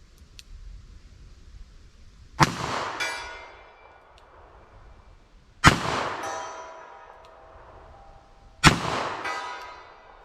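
Three loud, evenly spaced gunshots from a handgun firing .45 ACP+P and .44 Special cartridges, each a sharp crack followed by a ringing, decaying echo, with quiet pauses between shots.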